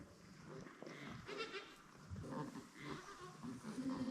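Newborn kid goats bleat in short, wavering, high cries, several overlapping calls close by over a faint barnyard background.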